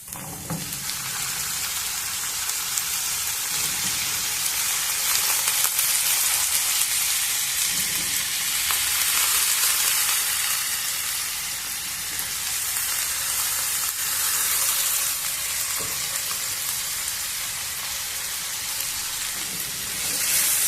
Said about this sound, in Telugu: ముక్కల్ని కొంచెం ఫ్రై చేద్దాము ఎక్కువ చేయాల్సిన అవసరం లేదు ఇప్పుడు అరటికాయ ముక్కల్ని కూడా వేసేసుకున్నాము